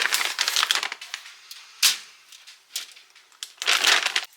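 Samson the dog lapping water from a bowl, quick wet splashy laps in bursts with short pauses, close and fairly faint.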